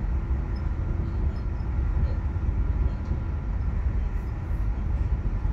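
Low, steady rumble and faint intermittent creaks of an ÖBB 4746 Cityjet electric train in the Train Simulator game, a monotonous rolling drone with light squeaks, no talk.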